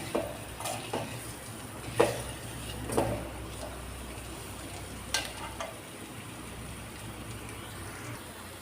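A pan of egg-curry ingredients is lightly fried and stirred. A soft, continuous sizzle runs throughout, broken by several sharp scrapes and clinks as the spoon moves through the pan.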